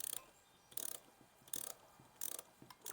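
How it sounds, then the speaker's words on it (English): A 3/8 inch ratchet fitted with a 1/4 inch adapter turns a bolt while working on a Pontiac Ventura. Four close, crisp bursts of rapid clicking are separated by short pauses. "I'm going to need to use a 1/4 inch ratchet because this doesn't have enough room"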